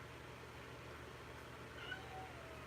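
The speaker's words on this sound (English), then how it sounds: "my cat's trying to get my attention" A hungry house cat meows for attention, a faint, brief call or two rising above a steady low room hum, fairly distant and quiet.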